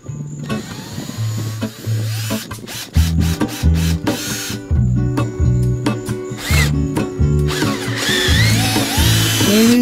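A power drill drives screws to mount lights on a boat under restoration, its motor whirring in repeated loud bursts of varying length with short pauses between, close up, alongside background music.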